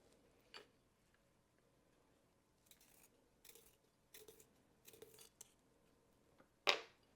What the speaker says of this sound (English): Let's actually sharpen that pencil.